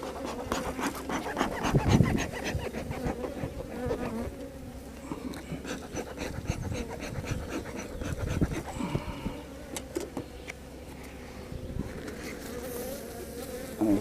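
Honeybees hum steadily around an open hive during an inspection, a dense, close droning buzz that runs the whole time with small swells and a few louder passes near the ear.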